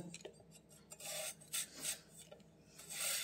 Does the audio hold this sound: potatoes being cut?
yes